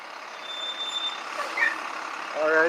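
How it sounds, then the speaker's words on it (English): A tow truck backs up with repeated electronic reversing beeps over a steady engine rumble, the beeps clear and fairly close, growing louder toward the end. "Alright, so the tow truck's here."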